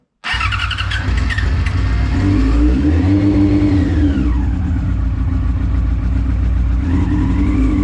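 A Yamaha R6 motorcycle engine with the choke fully on starts abruptly and runs loud and close, revving up and down steadily for several seconds with no talking.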